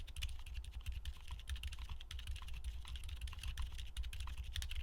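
Typing on a keyboard fitted with silent linear switches gives a steady, soft stream of muted keystroke taps, quiet and close with no talking.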